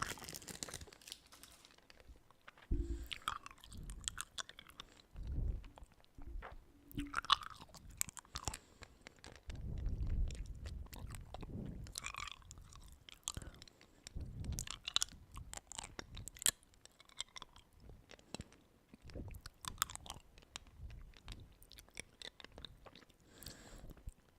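Close, quiet chewing and crunching of hard candy, with irregular crisp crunches and wet mouth sounds plus occasional wrapper crinkling.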